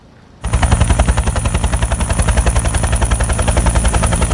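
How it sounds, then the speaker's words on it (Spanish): A military helicopter used by rescue firefighters after an avalancheurs thunders in suddenly and stays loud and close, its rotor chopping in a fast, steady pulse with a constant engine roar and no voices. "los bomberos de Cali que llegaron en un helicóptero militar a rescatar a su familia"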